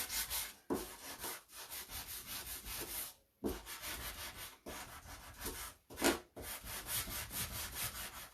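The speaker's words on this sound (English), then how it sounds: "Got a better sander, you know. It would be better, but that's okay." A sander working over a piece of wooden wall decor, producing repeated bursts of harsh gritty rubbing with short pauses between passes, close but fairly quiet and alone.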